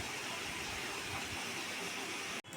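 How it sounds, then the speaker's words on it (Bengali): Black cumin seeds and bay leaf fry in hot oil in a kadai, giving a loud, steady, close sizzling hiss that cuts off abruptly just before the end. "কড়াইতে তেল গরম হয়ে গেছে, তেলে আমি কালো জিরা তেজপাতা ফোড়ন দিয়েছি"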